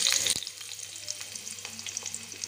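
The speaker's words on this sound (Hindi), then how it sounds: "इसमें हम आलू को डालेंगे।" Potatoes frying in hot oil in a kadhai wok while making stuffed brinjal, a steady close sizzle with bright crackling and a few stirring clatters, no talking.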